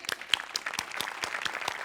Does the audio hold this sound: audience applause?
yes